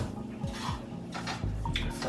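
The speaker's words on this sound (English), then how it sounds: "So I'm going to just plop that into my skillet." Ground beef dropped into a skillet for a stuffed pepper dish, with soft scraping and clinking of a utensil against the pan under a steady background hiss.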